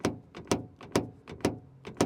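Doors on a 2023 Mazda3 Turbo hatchback shutting with solid, close thuds, about five sharp impacts in quick, evenly spaced succession.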